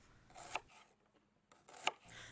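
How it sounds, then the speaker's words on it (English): An onion is chopped as a foley effect, giving two crisp, sharp knife strikes on a board, about a second apart, close and distinct against near silence. "I needed the sound of an onion chopping"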